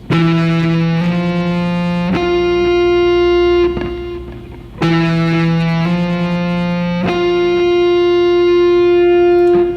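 Heavily distorted electric guitar plays a short D natural minor lick of a few sustained, ringing notes, then repeats the same phrase, loud and up close.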